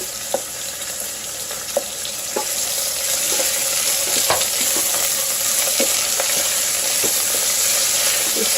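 Steady sizzling of celery and frozen vegetables frying in a hot Instant Pot, with a few sharp clicks and stirring taps early on, then a continuous hiss, fairly close.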